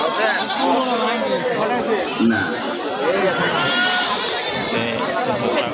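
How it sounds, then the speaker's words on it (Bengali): Goats bleating again and again at a busy livestock market, the calls overlapping with the steady chatter of a crowd, close and loud throughout, while people talk nearby. "ছাগল"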